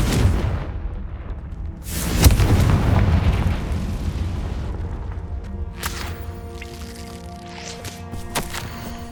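A Confringo blasting spell explodes in the Hogwarts Legacy video game, a heavy booming blast early on followed by rumbling debris and a few sharper bursts later, with no speech over it.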